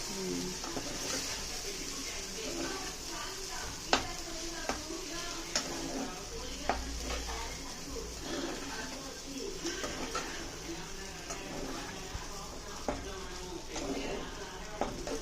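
Idly upma being stirred in a pan over low heat: a soft, continuous sizzle with irregular scraping strokes and occasional sharp clinks of the spoon against the pan, fairly quiet and close.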